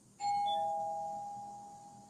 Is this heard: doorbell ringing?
yes